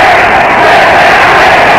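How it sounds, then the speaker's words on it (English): Basketball arena crowd at a 1985 Bradley Braves at Wichita State Shockers college game, a loud continuous roar of yelling and jeering voices filling the space, close and steady throughout. "Crowd's telling Dick to sit down"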